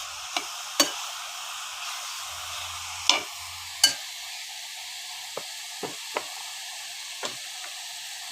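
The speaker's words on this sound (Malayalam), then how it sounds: "ഇപ്പോൾ നമ്മൾ മുട്ടൊക്കെ ചിക്കിയിട്ടുണ്ടെങ്കിൽ എല്ലാം കൂടെ നന്നായിട്ട് ഇളക്കി കൊടുക്കാം." A spatula scrapes and knocks against a pan while beetroot and egg stir-fry is stirred, a few sharp, fairly quiet clinks and scrapes spaced irregularly over a faint steady sizzle, with no talking.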